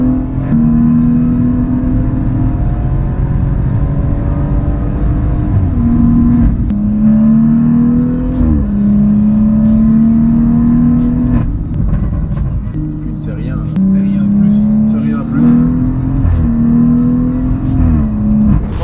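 A Lotus sports car engine pulls hard under acceleration, loud and close, climbing through gears in repeated rising whines with short shift breaks, heard from inside the car without talk.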